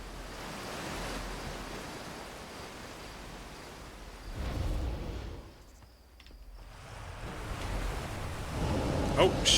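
A video game waterfall in Outer Wilds roars as a loud, continuous rushing wash of water that swells, dips briefly, then surges back near and full.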